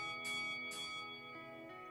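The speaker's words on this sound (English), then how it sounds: "Just waiting the bell here." Two quick, bright clangs from a wrestling ring bell in a Second Life wrestling match ring out, then fade into a sustained tonal hum.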